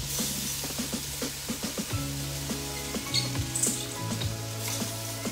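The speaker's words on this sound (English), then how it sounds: "So this is washed, 2 cups of basmati rice going in." Two cups of washed basmati rice tipped into a pot of sizzling pepper soup base, a steady close frying hiss with stirring scrapes and light clinks of a spoon against the pot.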